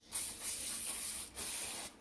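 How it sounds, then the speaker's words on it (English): A can of butter-flavored non-stick cooking spray hisses onto a pan in a kitchen, two close, loud bursts of spray with a short pause between, no talking. "Spray the pan with some good old non-stick butter flavor."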